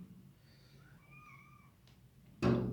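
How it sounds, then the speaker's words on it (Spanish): A cat indoors gives a couple of soft, drawn-out meows in a quiet room, followed by a sudden louder thump or rustle at the end. "Empezamos la danza de los gatos que entran y salen."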